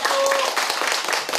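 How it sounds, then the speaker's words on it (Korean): Applause from a gathering at a shared meal, dense, steady clapping filling the whole moment up close, with a brief voice tone audible early on. "고마움의 박수입니다."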